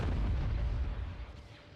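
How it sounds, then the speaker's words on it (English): Explosions from the Star Wars Empire at War Remake video game: a single deep, muffled boom that rolls and fades over a couple of seconds, faint and distant, with no talking. "These explosions sound good."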